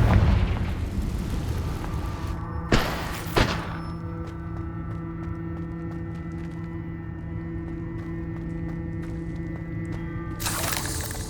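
A Confringo explosion spell in Hogwarts Legacy goes off as a loud opening blast, then two sharp pops trail into a ringing, humming lull, and a fresh loud burst strikes at the end.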